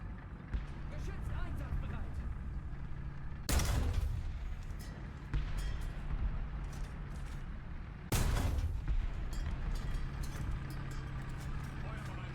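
Gunfire aimed at a tank in a video game: two loud, sharp bursts ring out over a steady rumbling engine drone, with a person talking throughout.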